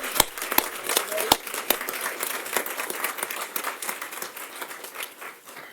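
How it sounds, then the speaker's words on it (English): Audience applause for a sophomore award winner at a school board meeting, a dense burst of many hands clapping with sharp individual claps up front, holding steady for several seconds before easing slightly. "give a warm round of applause to Jasmine Gonzalez of Salem High School"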